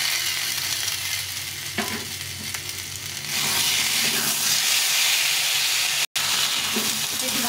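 Ground ginger, cumin and coriander paste frying with potatoes in hot oil, a steady loud sizzle that swells louder partway through, with occasional stirring scrapes and a brief cut near the end.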